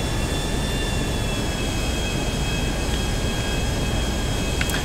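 The engines of a Nimbus private luxury jet in Grand Theft Auto V roar in flight, a loud steady turbine whine over dense rushing noise, continuous throughout with no speech.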